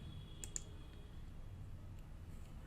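A mouse clicks the refresh button on a computer: a few faint, sharp clicks come early, with a couple more later, over a quiet background hum.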